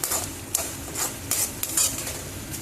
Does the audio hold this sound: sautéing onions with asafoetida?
yes